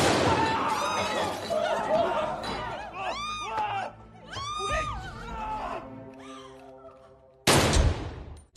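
A pistol shot in a film fight scene: one loud, sharp bang near the end, after agitated shouting and laughing voices with brief screams.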